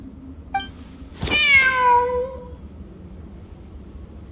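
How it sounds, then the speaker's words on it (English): A cat in the video game Genshin Impact gives one drawn-out, clear meow that rises and then slowly falls away, preceded by a faint chirp and followed by quiet. "Wait, there it is! The cat!"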